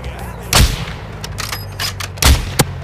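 Call of Duty Modern Warfare gunfire: two heavy booming shots a couple of seconds apart, with a lighter crack near the end, set against a low in-game background rumble and faint scattered sounds.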